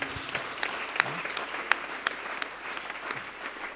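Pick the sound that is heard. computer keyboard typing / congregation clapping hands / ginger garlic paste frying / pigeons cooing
congregation clapping hands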